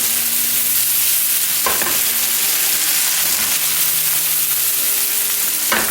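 Ingredients for a spicy tomato chili sauce fry and sizzle loudly in a pan, a dense steady hiss with two brief scraping stirs, no voices present.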